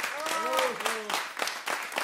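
An audience at a jazz concert applauds the band's keyboardist with a short burst of clapping, while an announcer's voice carries over it.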